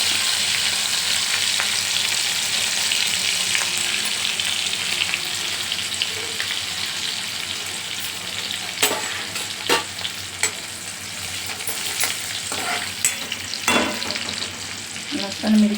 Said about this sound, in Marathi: तडतडली ना फोडणी, आता लसूण आणि मिरची,